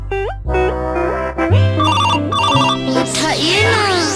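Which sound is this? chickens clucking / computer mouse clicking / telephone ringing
telephone ringing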